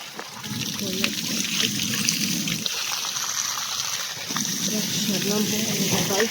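Water from a new high-pressure motor pump runs in a steady stream while clothes are washed by hand, continuous and fairly loud, with someone talking over it.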